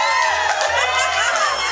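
A crowd at a live concert cheers and hollers in a short, dense burst, many overlapping voices and whoops at steady, fairly loud volume.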